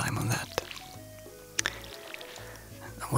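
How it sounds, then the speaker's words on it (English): Watering can pouring onto seeds in the farming game Stardew Valley, heard as a couple of short, soft splashy drips over gentle background game music. "Yeah, I should water my seeds."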